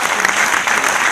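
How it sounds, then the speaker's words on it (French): A crowd applauds at a French business-creation evening as entrepreneurs are invited on stage; the clapping is dense, steady and fairly loud throughout the short burst, with no pause. "On peut les applaudir"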